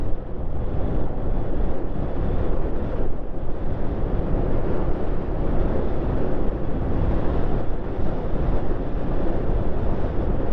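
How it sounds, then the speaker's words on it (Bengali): Steady, loud wind buffeting the microphone of a motorbike moving at speed on an expressway between Amritsar and Udhampur, a dense low roar that runs unbroken with no talking. "এখানে ভালোই হাওয়া চলছে"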